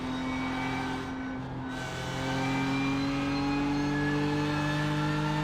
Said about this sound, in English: I'm driving the BMW M4 GT3.